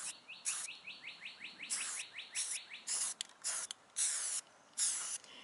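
Short bursts of spray paint hiss onto a bird feeder, several quick puffs in an uneven rhythm, while birds chirp rapidly nearby, their repeated tweets overlapping the spraying.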